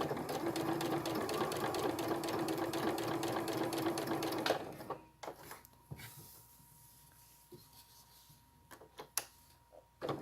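A sewing machine runs steadily, stitching fabric for a Christmas project, then stops about halfway through, leaving soft handling clicks and fabric rustles close by.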